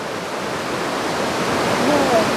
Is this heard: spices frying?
no